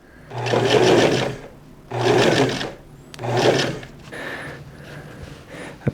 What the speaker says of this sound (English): I'm going to sew right up to this here line.